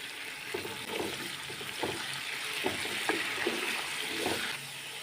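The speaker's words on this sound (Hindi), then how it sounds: "थोड़ा सा पानी शामिल करेंगे।" Water hisses and sizzles into a hot cooking pan with garlic-ginger paste for a mixed vegetable dish, a steady frying crackle with soft irregular bubbling pops throughout.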